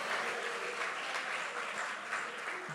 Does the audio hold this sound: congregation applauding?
yes